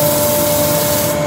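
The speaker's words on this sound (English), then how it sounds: "When I'm sanding with this one, I'm making scratches that way." Steady, loud abrasive hiss of 120 grit sandpaper against a turned wooden bowl spinning on a lathe, one continuous close rubbing sound with a faint hum running underneath.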